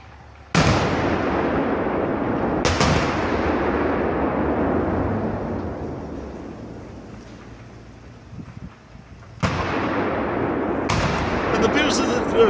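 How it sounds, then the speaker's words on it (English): Explosion blasts in Starobilsk captured in war footage: several sharp, loud booms with rumbling decay, roughly four strikes spread across the stretch, the middle section fading quieter before the final two hits. "there was an explosion in Starobilsk as well, which we were able to see in this clip"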